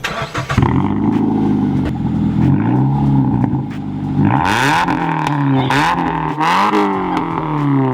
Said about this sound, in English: once you get high revving, it sounds like it's the resonator delete again